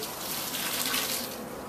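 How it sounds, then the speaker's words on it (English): Water drained from a pot of boiled noodles pours and splashes steadily into a sink, a short continuous gush, close and fairly quiet. "I'm going to drain the water"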